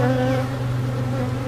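Honeybees buzz close up in a steady, dense hum while a beekeeper inspects an open colony.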